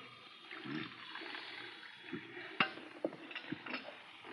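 Coffee poured from a pot into a cup as a radio drama sound effect, a short liquid trickle with a few soft clinks of cup and crockery at close range, with quiet room tone behind.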